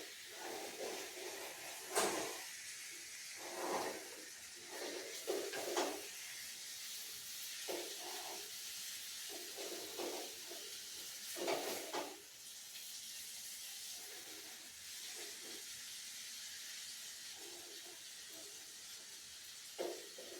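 Sardine peera sizzles in a pan while being turned over, a steady hiss broken by repeated bursts of louder sizzling and scraping as the fish is flipped, close and moderately loud, no talking.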